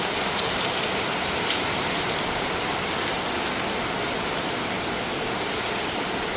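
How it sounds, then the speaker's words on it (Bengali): Morning rain falls steadily, a dense, continuous wash of hiss and patter that stays constant throughout, with no voices. "দেখেন সকাল সকাল বৃষ্টি শুরু হয়ে গেছে"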